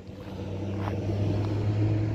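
Italian cars such as Fiats, Maseratis, Ferraris and Lamborghinis roll in to a car show in Tralee, giving a steady low engine rumble and hum that grows slightly louder as they approach, with no talk.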